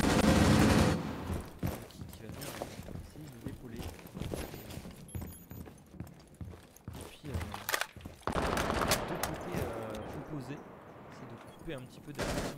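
Gunfire trades back and forth during a collegiate esports match of Rainbow Six Siege, with bursts of shots and scattered clatter at moderate level, mostly under continuous commentary.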